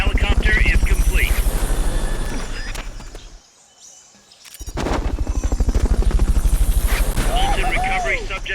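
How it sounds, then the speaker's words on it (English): Rhythmic helicopter rotor thumping from a Fulton recovery helicopter in Metal Gear Solid: Peace Walker, loud and close, dropping out briefly mid-clip before returning with whirring engine tones and bird-like chirps. "Fulton recovery subject confirmed onboard helicopter."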